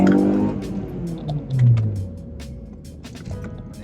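A 2010 Honda Civic Type R with a VTEC engine revs up close, a rising mechanical drone that climbs and swells briefly, then settles back into a steadier hum.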